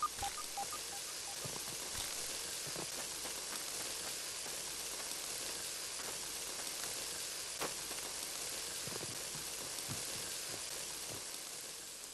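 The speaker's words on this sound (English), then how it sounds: "sizzling!" Sizzling in a video game: a continuous, fairly faint hiss with scattered crackles and pops, steady throughout without talk.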